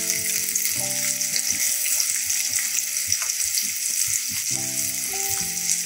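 Sliced onions sizzle and fry in a pan, cooking down toward golden brown for a fish masala curry. A steady, close frying hiss runs throughout, with some faint tonal noise behind it and no talk.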